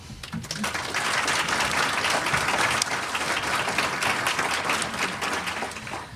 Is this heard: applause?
yes